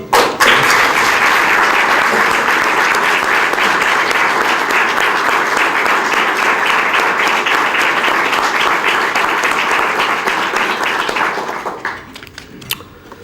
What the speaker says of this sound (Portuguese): peço aos presentes que os saudemos com uma salva de palmas